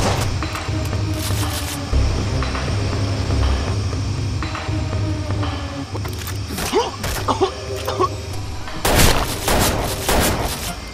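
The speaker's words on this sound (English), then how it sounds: "I'm taking fire!" Gunfire in the video game Watch Dogs during a laundry room fight, with scattered bursts and sharp shots over a low rumbling game soundtrack and a heavy volley near the end. Speech is also present.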